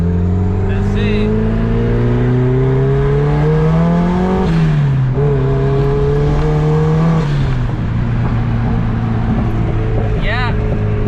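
A car accelerating hard in third gear, its engine note climbing steadily and loudly with a brief dip partway through before rising again, heard from close by with no talk.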